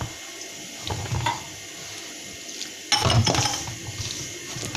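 Water pours into flour while dough is being kneaded, a soft, uneven trickling and splashing with a louder burst of pouring near the end, close by and with no talking.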